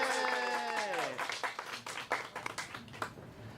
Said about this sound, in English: Everyone applaud for Kenna.